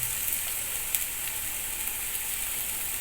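Ginger paste frying with onion and garlic for a Bengali katla fish kalia: a steady, soft hiss of sizzling oil with a few faint pops, no voices.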